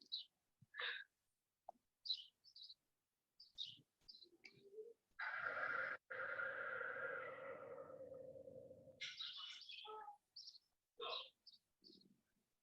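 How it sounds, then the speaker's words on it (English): Birds chirp outdoors in short, scattered bursts, faint and spread out, with a longer steady rushing noise in the middle. "So beautiful to hear the birds chirping."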